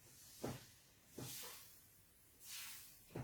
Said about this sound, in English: Okay, you hear the sizzling sound?